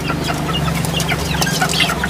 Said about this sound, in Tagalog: Mga ano yan na manok? Mga fighter?